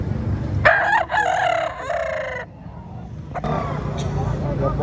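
A rooster crows loudly at a chicken expo in Carbon Public Market, Cebu City, with a long drawn-out call nearby and another fainter crow later amid market noise and talk.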